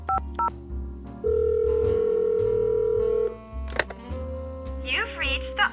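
Electronic phone-dialing tones in the video game Nancy Drew: Lights, Camera, Curses: a few quick beeps, a long steady tone, then a rapid warbling burst, with a low musical bed underneath.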